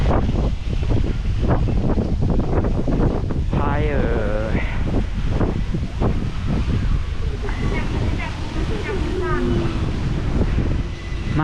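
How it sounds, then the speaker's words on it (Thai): Wind gusting steadily at Maharaj pier on the Chao Phraya riverside in Bangkok, a loud continuous rush buffeting the microphone while someone talks over it. "ลมพัดเย็นสบายเลย"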